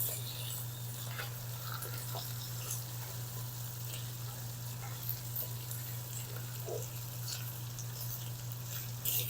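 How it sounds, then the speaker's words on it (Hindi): Mutton fries with chopped green chillies in a pan, a steady close sizzle running throughout with occasional stirring scrapes and a constant low hum underneath. "4 से 5 मिनट अच्छी तरह मटन को फ्राई कर लेंगे।"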